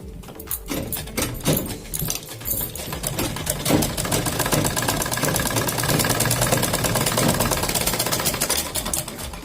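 A sewing machine runs a double line of stitching on a kurti, starting with a few short bursts and then settling into a long, steady, loud mechanical whir with fast needle ticking, close up and without talk.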